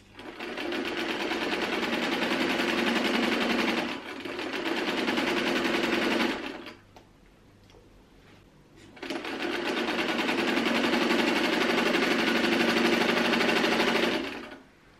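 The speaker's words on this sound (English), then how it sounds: "I'm ready to start sewing" A threaded sewing machine runs in a rapid, loud buzzing stitch for several seconds, pauses briefly, then sews again in a second long sustained burst.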